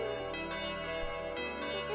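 Legendary school bell in the Tokimeki Memorial video game ringing out in rich, sustained resonant chimes, loud and alone with no voices, with a fresh strike near the end.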